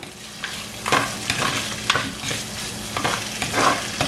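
Onion, green chillies and curry leaves stirred and sautéed in a hot pan, with steady close sizzling broken by several scraping stirs of the spoon.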